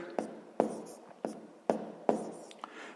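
A pen writing by hand on paper in a sixth-grade maths exercise, several quick separate strokes tapping at an even rhythm, close and fairly quiet with no talking.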